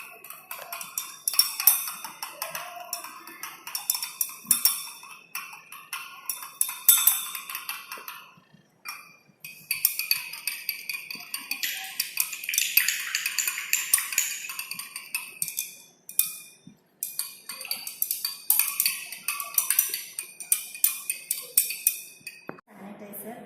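Homemade hand sanitizer is stirred in a glass container, giving long stretches of light, rapid clinking and ticking of a utensil against glass, close and gentle, with short pauses between bouts.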